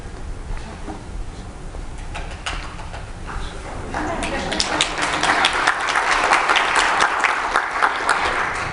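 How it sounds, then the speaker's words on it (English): Clapping from a small group, weak and scattered at first, then growing into fuller, denser applause at moderate distance for the rest of the clip, with no talking over it. "I just thought that was really good, so I thought I'd clap for it."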